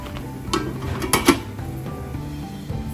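A metal lid goes onto a cooking pot of lentils on the stove, giving a few sharp clinks and clatters, the loudest pair close together near the middle, over a quiet kitchen background with no talking.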